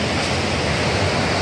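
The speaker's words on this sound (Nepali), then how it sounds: "यति सङ्गलो पानी बगिरहेछ" Clear stream water flows in a steady, loud broadband rush close by, with no voices and no change in level.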